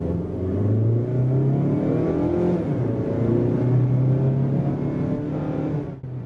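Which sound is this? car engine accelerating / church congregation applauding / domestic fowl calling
car engine accelerating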